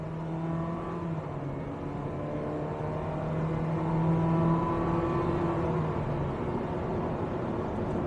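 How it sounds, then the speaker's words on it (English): A 2022 Mitsubishi Xpander with a CVT accelerating along winding country roads, heard from inside the cabin: a steady engine drone whose pitch climbs smoothly and then holds, with road rumble underneath and no talking. "Driving the Xpander on winding country roads."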